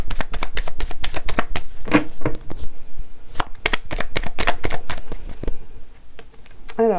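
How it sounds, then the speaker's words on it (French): Oracle cards are shuffled by hand at close range in quick rapid riffles and crisp slaps, with brief pauses between bursts. "je vais prendre des petites cartes avec l'oracle de Béline"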